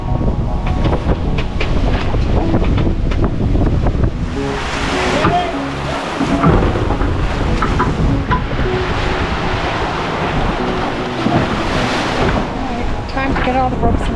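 Strong wind buffets the microphone at sea aboard a sailboat, a loud continuous roar mixed with rushing water and waves, with people talking under the noise throughout.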